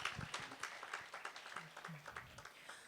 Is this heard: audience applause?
yes